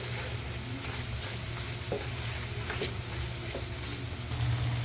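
Noodles stir-frying in a pan with shrimp, oyster sauce and freshly added carrots, a continuous close sizzle broken by a few scraping stirs of the utensil.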